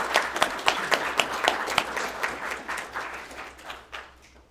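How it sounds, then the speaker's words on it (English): A room full of people at a game jam showcase applauds, steady clapping that gradually fades out. "Give a round of applause."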